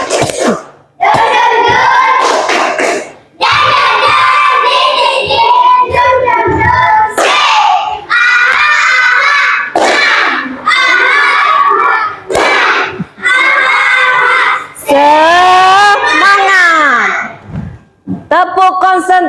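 Schoolchildren chant loudly in unison and clap in quick, patterned bursts for a 'tepuk semangat' clap chant led by a teacher, the rhythmic shouts and hand claps close and energetic, with short pauses between phrases.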